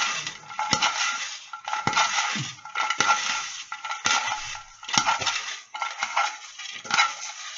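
Draw balls rattle and tumble inside a container while being mixed for a Russia 2018 World Cup prize draw, a steady run of dense clattering bursts with no voices.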